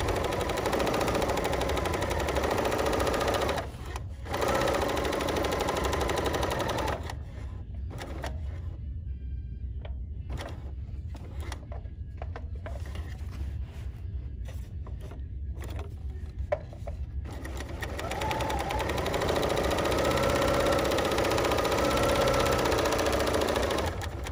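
A Bernina L 890 serger runs in long rapid buzzing stretches, stopping and restarting with a quieter gap of clicks and short stitching bursts in the middle before picking up speed again.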